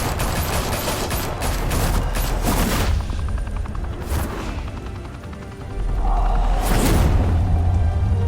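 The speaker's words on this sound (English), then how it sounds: "Open fire!" Gunfire in Batman: The Telltale Series: dense, loud volleys of automatic shots and booming blasts roll continuously, with a brief lull midway before another heavy burst and rumbling impact near the end.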